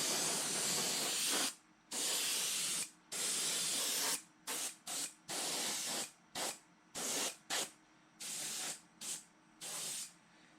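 Clear seal coat, matte or gloss, sprayed from an aerosol can onto a 3D printed model of the classic Disney Nautilus submarine, 42 inches long: close, loud hissing bursts, long at first, then a rapid series of short sprays.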